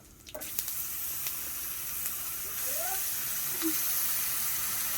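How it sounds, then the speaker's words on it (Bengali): Garlic paste sizzling in a pan while dal is being tempered, a soft steady hiss that begins after a brief clatter and continues evenly at low volume, no voices. "রসুন বাটা আছে, রসুন বাটা দিয়ে দেব।"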